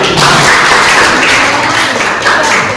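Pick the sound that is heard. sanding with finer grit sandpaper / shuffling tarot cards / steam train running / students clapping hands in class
students clapping hands in class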